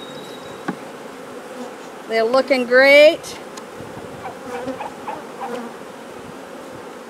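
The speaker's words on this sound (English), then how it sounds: "It's buzzing, everything's buzzing." Honeybees buzz around hive frames as the colony moves into a new hive, a steady close hum with one loud rising whine as a bee passes near, while a voice speaks briefly.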